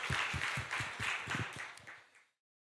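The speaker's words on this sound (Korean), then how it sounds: "우리 하나님께 감사와 영광의 박수 올려드립시다." A church congregation at a Friday worship and prayer service claps in rhythmic, evenly spaced beats for a couple of seconds before stopping abruptly.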